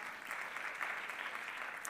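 Audience at a French brand-content awards ceremony applauding prize winners, a brief, steady patter of many hands clapping, fairly soft and distant.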